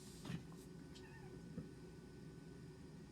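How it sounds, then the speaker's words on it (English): A pet cat meowing indoors, a couple of short faint calls set against a steady low room hum, with no talking. "my cat comes down to meow at me and trying to get my attention."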